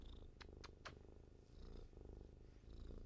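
Soft, continuous cat purring close by, a low rhythmic rumble with a few faint higher chirps, alone with no talking.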